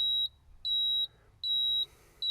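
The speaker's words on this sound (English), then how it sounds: "sorry about the beeping" Three evenly spaced high electronic beeps from a skid steer, each lasting about half a second, with quiet gaps between them, sharp and clear over faint background hum.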